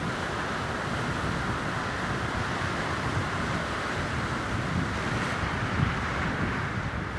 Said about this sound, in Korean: 파도 소리에 약간 묻힌 것 같지만